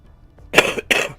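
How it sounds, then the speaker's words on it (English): A single person gives a quick, harsh cough in two close bursts, the first slightly longer than the second, near and fairly loud with no talk around it. "Really bad cough at the moment."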